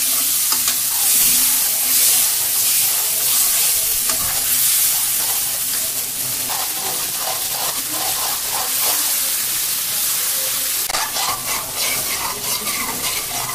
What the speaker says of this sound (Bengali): এখন আমি মশলা দিয়ে দেবো। মশলা কষাইতে আছি